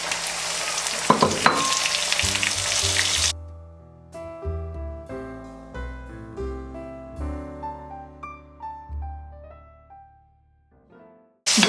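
Tomatoes drop onto golden ginger frying in a pan for potato curry, making a loud hissing sizzle for about three seconds before it stops and gentle instrumental music plays alone.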